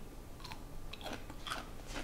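Crunchy, extra garlicky pickle bitten and chewed up close, giving several crisp crunching snaps in quick succession with no talking.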